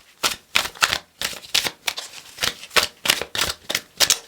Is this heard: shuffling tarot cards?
yes